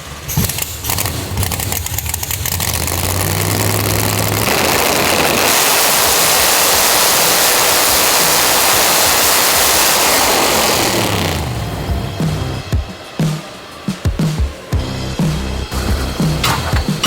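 A Chevy-powered Ultra Street Mustang running on a hub dyno: the engine rises to a loud, sustained full-throttle roar for several seconds, then falls back to a rough, lumpy idle.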